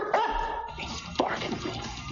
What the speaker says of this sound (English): German Shepherd starts barking.